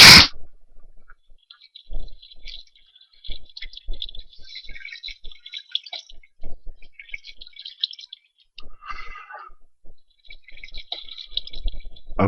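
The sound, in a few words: water being placed and flowing in Minecraft video game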